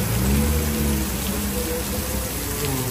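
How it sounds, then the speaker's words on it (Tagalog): Heavy rain pours steadily in Brunei, a dense continuous hiss of drops hitting surfaces, with no voices. "kahit malakas yung ulan"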